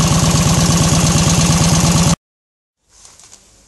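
The engine of a 1948 Indian Chief motorcycle, started by an electric starter, runs with a loud, close, rapid pulsing beat, cuts off abruptly to silence, then a faint rustle follows.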